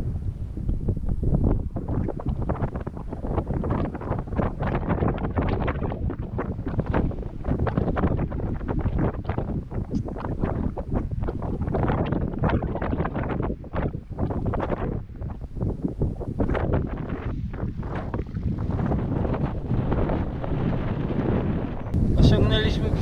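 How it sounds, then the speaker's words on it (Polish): A cold north wind buffets the microphone on a mountain pass road in Kazakhstan, a steady loud roar and rumble for the whole stretch, with a voice talking through it. "przez ten wiatr taki zimny. Centralnie z północy wieje."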